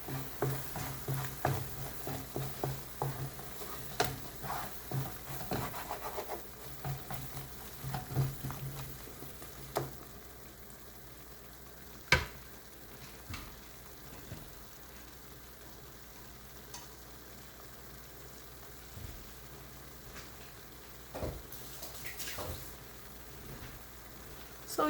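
Chana masala cooking in oil in a pan with stirring, a soft continuous sizzle with scraping and clinks of a spoon against the pan, louder in the first ten seconds and then settling into a quiet steady fry.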